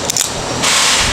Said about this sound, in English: A little can opener ASMR